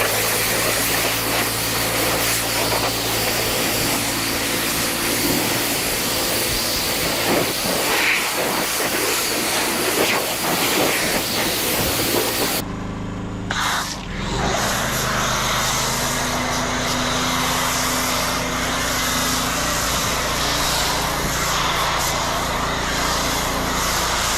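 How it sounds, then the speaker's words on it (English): A pressure washer rinses car wheels during mobile detailing. Its loud, steady hissing spray runs unbroken, with a brief drop and a change in tone about halfway through as the jet shifts. "Then I'm gonna have him rinse everything down."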